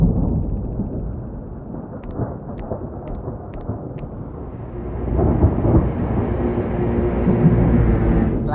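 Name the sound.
thunder of a brewing storm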